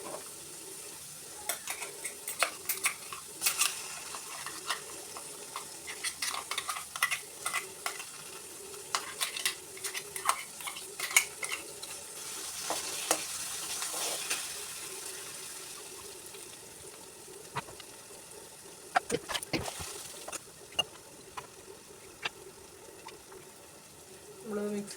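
Ground masala paste for a Kottayam-style fish curry sizzles and sautés in a pan while a spoon scrapes and taps intermittently, with faint running water and occasional talk.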